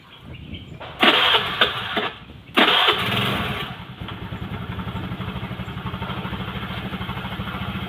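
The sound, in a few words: Honda Vario scooter engine starting and running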